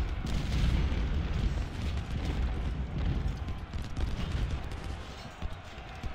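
Rolling musket volleys and booming artillery fire in the Civil War strategy game Ultimate General: Civil War, a dense continuous crackle of gunfire with heavy low thuds throughout.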